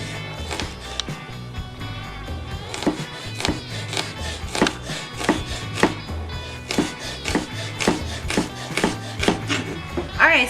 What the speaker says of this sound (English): We want to cut these as fine as you can as well